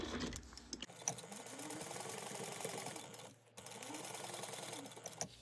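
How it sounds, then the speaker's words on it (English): Sewing machine stitching a 1/4 inch seam on a backpack panel, a fast rhythmic whirring in two bursts separated by a short pause, close and fairly quiet. "I'm going to sew this at a 1/4 inch seam allowance"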